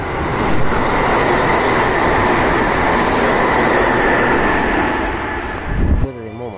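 A limited express train with a headmark rushes through a station at speed with a loud, steady roar and rattle, then the noise cuts off abruptly near the end.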